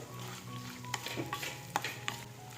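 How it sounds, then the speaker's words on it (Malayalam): Potato and carrot pieces fry in oil while being stirred: a soft sizzle runs underneath, broken by a few sharp spoon clinks and scrapes against the pan, with no speech. "ഉരുളക്കിഴങ്ങും ക്യാരറ്റും നന്നായിട്ട് നമ്മുടെ ഈ ഒരു എണ്ണയിൽ വഴറ്റുക"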